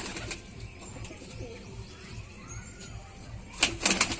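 Young Rajshahi Giribaj pigeons at a home loft give soft coos and sudden bursts of wing flapping, with a louder flurry of flaps near the end over faint background noise.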